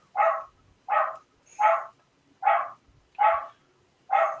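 Dog barking in a steady series of six loud, evenly spaced barks, close by and alone with no talk over them.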